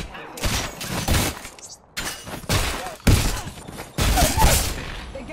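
Bursts of gunfire from the video game Apex Legends, loud, sharp clusters of shots arriving in four separate volleys with brief gaps between them, no talk over them.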